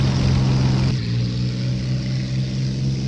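A Messerschmitt Bf-109 piston engine drones loudly in Flight Simulator X, then is throttled back about a second in, the roar dropping to a steadier, lower hum that continues alone.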